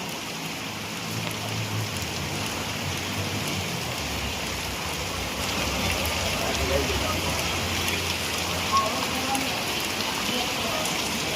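Torrential rain pours over Valsad city as a dense, steady hiss that never lets up, close and even throughout, with voices faintly mixed into the downpour.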